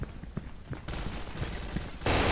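Repeated M870 pump shotgun blasts in the online shooter Special Force 2, several muffled shots with dense gunfire and game noise behind them, ending in a loud sustained burst.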